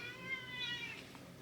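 A pet cat meows indoors, a short, faint, drawn-out call over a steady background hum.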